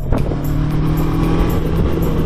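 A Macbor Montana XR5 twin-cylinder 500cc motorcycle hums steadily in third gear at 4,000 rpm and 55 km/h, a close, even throbbing drone with wind noise and no acceleration.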